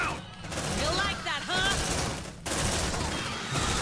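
Squad weapons firing in the video game Aliens: Dark Descent, dense rapid bursts of gunfire with whining, chirping alien or effect tones, under a shouting voice.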